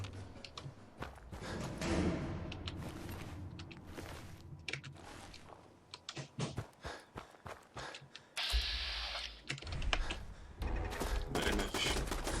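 Turret gunfire in the Fallout 4 video game, bursts of rapid sharp shots and clattering impacts that come and go amid game noise, moderately loud with no clear voice over them.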